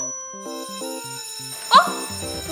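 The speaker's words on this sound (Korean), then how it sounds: "갑자기 비상벨이 울리네?" An electronic alarm rings close by in a repeating pattern of bright melodic tones, with a sharp burst partway through.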